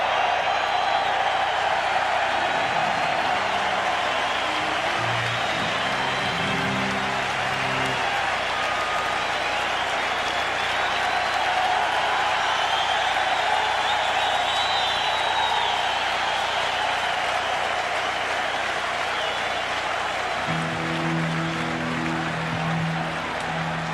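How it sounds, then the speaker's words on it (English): Baseball stadium crowd giving a sustained ovation for a ceremonial first pitch at a Yankees vs Mets game in 1999, with broad cheering and applause throughout and a public-address voice or music drifting faintly in the background. "they appreciated the job he did this year with the New York Knicks"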